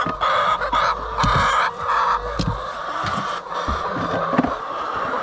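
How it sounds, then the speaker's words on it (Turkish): Hens in a coop cluck and squawk loudly and repeatedly after going inside, a busy overlapping chorus of close, insistent calls. "tavuklar içeriye girdikten sonra çok bağırıyor."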